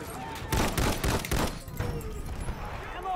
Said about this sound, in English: Here, that's an enemy machine gun.